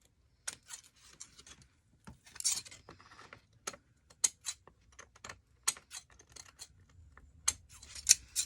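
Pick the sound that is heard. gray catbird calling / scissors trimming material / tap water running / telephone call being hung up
scissors trimming material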